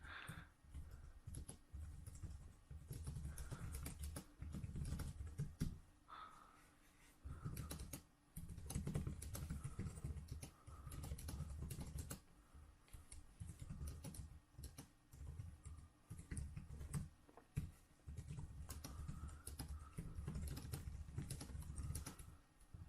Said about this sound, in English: let's do some type testing with the keyboard